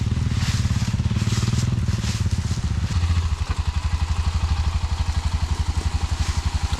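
Dirt bike engine running loud and close, a steady rapid four-stroke chug that shifts pitch partway through as the rider changes throttle, with some clatter and rattling over the top.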